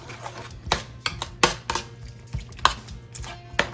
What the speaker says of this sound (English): So I mix this up well.